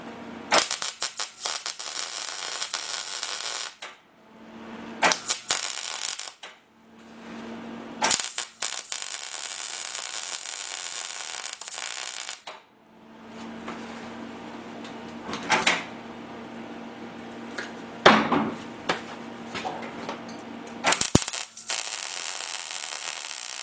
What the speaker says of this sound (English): Okay, we're going to start plug welding this panel in.